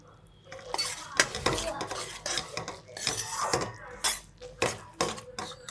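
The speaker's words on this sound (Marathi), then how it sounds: "आपण तीळ टाकून घेऊया आता" Sesame seeds tossed into hot jaggery syrup for chikki and stirred with a metal spoon, producing loud clattering scrapes and clinks against the pan in an uneven rhythm, close up.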